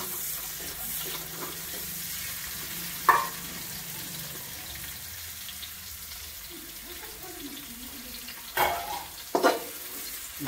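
Onions frying in a small amount of oil with ginger garlic paste, a soft steady sizzle with a few sharp clinks of a spoon against the pan and faint background talk.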